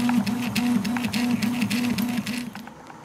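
A 3D printer at work on parts for a flight simulator trim wheel box, its stepper motors giving a rhythmic, repeating warble with fast ticking over it, close and steady before trailing off.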